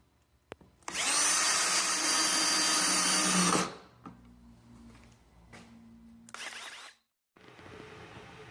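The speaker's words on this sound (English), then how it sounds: "mark it so that I could prepare it for the drill to set my" A power drill whines loudly and steadily for about three seconds while driving screws into a wooden shelf, followed by a quieter pause and a second short burst of drilling.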